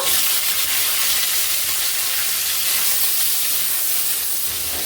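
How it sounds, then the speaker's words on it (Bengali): Chicken with crushed ginger and garlic frying in hot oil in a kadai, a loud, steady, close sizzle and hiss that carries on unbroken with no voices. "তেলটা গরম হয়ে গেছে, দিয়ে দেবো আদা আর রসুন থেতো করা। এবার দিয়ে দেব স্যুপের জন্য যেই চিকেনটা রেখেছি সেই চিকেনটা দিয়ে দেব।"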